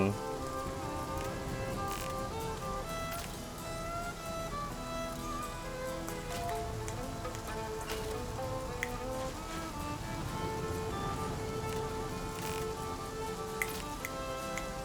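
Steady rain in the video game The Flame in the Flood patters on a surface throughout, with scattered drips and ticks over a dense, continuous wash of sound.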